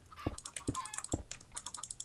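Blocks being placed in the video game Minecraft: a few quick, close, soft thuds spaced about half a second apart, mixed with faint clicky chatter and chicken-like clucks.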